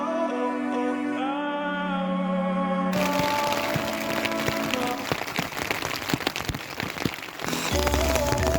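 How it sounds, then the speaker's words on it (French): Dense crackling patter of a rain shower striking a tent, close and continuous, with tonal hums underneath at the start. "Bon là il y a une petite averse"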